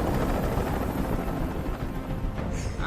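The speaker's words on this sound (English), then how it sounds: "Tell that helicopter to get out of here." A continuous, loud helicopter rotor drone from the video game Detroit: Become Human fills the whole stretch, steady and close, with a small sharp sound at the very end.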